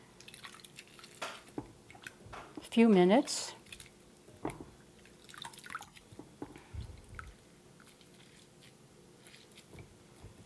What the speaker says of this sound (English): That's probably 3 to 5 minutes of squeezing and mashing is enough.